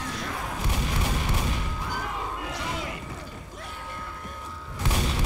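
A gas can catches fire and explodes in the Left 4 Dead video game, a low rumbling boom and crashing burst of flames over continuous game noise, with a player talking.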